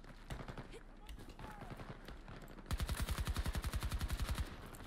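Rifle fire in Battlefield 2042 opens as a few scattered shots, then becomes a fast, steady automatic burst of about twenty evenly spaced rounds, loud and close, with a player talking faintly around it.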